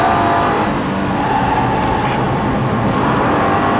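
A Nissan GT-R race car is driven hard around a track with an instructor at the wheel, its engine droning loudly and continuously from inside the car, with road roar and no pauses.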